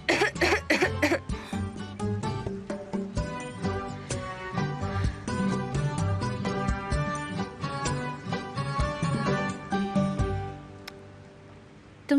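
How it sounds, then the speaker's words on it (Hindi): A sick woman coughs repeatedly during a tense scene of a Hindi-dubbed drama. The coughs are partly buried under loud, sustained dramatic music that carries through the whole passage before fading near the end. "इससे कितनी ज्यादा खांसी हो रही है।"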